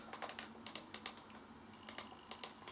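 Quick bursts of typing on a computer keyboard running a desktop setup on a Pocket C.H.I.P, soft close clicks in short clusters with brief pauses between them, with no voice over them.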